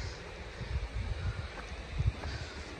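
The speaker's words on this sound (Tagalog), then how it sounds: "Malamig ang simoy ng hangin." Cold wind gusting across a mountain trail near Fantail Falls in the Haast wilderness, a steady low rumbling buffet against the microphone with uneven surges and no voices.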